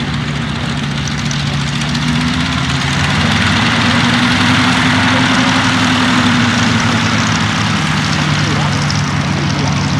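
Westland Lysander V9312 engine idling at the East Kirby Airshow 2019, a steady, loud propeller drone holding throughout while a commentator talks over it.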